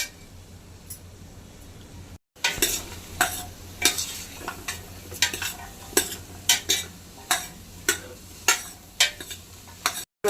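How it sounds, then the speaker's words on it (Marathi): Turmeric is stirred and sautéed in a hot pan for masale bhat, a spiced rice dish, with a soft sizzle underneath and repeated sharp scrapes and clinks of a spoon against the pan in an uneven rhythm. "नंतर ही हळद टाकूया चांगलं जरा परतून घेऊया"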